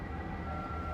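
Inside the Caledonian Sleeper train in Scotland while it moves, a steady low rumble with a faint, constant higher hum, even and unbroken for about a second, with no voices.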